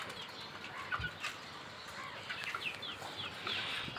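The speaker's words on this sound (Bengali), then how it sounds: "এই 3টা মুরগিকে আনছি যদিও অনেক দূর থেকে, ঢাকার বাইরে থেকে" Three chickens cluck and flap their wings close by, with short wing bursts and soft calls over a steady outdoor background, no voices present.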